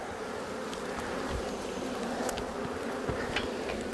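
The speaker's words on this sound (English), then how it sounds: "That seems like a very angry, queenless hive." An angry, queenless honeybee hive fills the air with a dense, steady buzzing hum, close and constant, with individual bees zipping past now and then.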